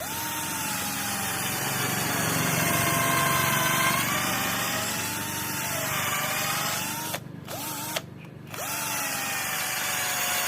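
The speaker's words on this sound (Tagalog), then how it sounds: "So test tayo drill sa kahoy. Ito po yung brush motor." A brushed-motor cordless drill whines steadily at high speed, boring into wood, then stops twice briefly before spinning up again.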